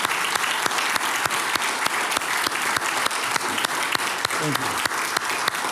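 An audience at an evening talk at the Phillips Collection applauds warmly in a full, continuous round, with a brief spoken thanks heard over the clapping.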